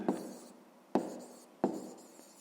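Pen or chalk writes on a surface in a quiet room, three sharp scratchy strokes about a second apart, each fading quickly, with no talk.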